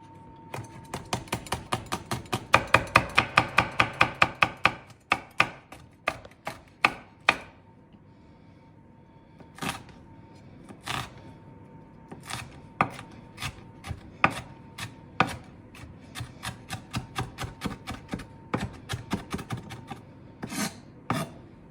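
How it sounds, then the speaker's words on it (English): A knife dices chili on a cutting board: rapid close, sharp chops in a fast run, then slower, spaced single knocks against the board. "Diced chili, done."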